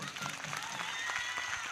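A church congregation claps steadily through a sermon, with a continuous wash of hand claps while a voice carries over it.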